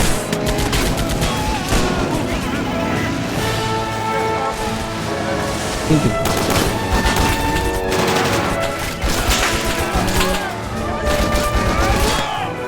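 In a toy war battle game, gunfire and booms crackle continuously, with a machine gun and scattered explosions forming a dense, busy battle din throughout.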